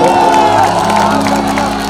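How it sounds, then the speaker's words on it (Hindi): A crowd at a Bhojpuri stage show clapping and cheering loudly for Golu, with shouts and whoops over music in a loud, continuous wash. "गोलू के लिए एक जोरदार ताली हल्ला करके बजाइए आप सब।"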